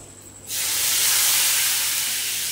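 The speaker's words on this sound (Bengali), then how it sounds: "এবার দিয়ে দেবো জল" A sudden loud hiss bursts in after a quiet moment and holds steady as water hits a hot pan of spice-coated, reddish-fried potatoes for aloo dum.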